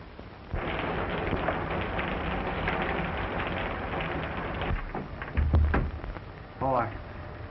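Steady rain hisses on the soundtrack of a 1931 film, then breaks off and gives way to a few muffled thumps and brief vocal sounds.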